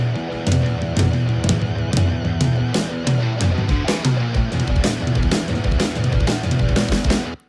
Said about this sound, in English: We put the verb back in.